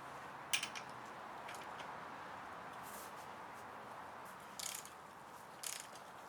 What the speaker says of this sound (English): Just get the torque wrench and torque it down.